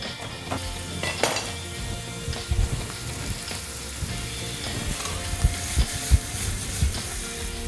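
Onions and chilli peppers fry in a pan for a mahluta lentil soup, a close, steady sizzle broken by irregular clinks and scrapes of a utensil against the pan, with no talking.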